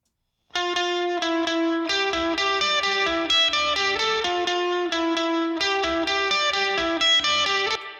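A guitar played through a Kiive XL-305 spring reverb, heard as sustained, sparkling chords and notes that ring with a wash of reverb, clear and continuous with no talking.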